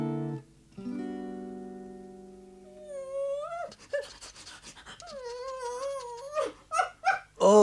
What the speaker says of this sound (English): All day we could hear him whining and scratching, wanting to be let out.